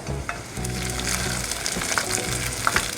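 Chopped garlic and onions fry in a pan for a soup, giving a steady close crackling sizzle with occasional stirring scrapes and pops over a low background hum.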